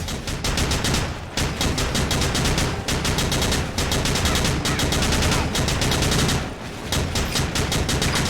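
Rapid automatic gunfire from assault vets in the video game Battalion Wars, a loud, continuous rattling stream of shots with a couple of brief breaks, close and alone.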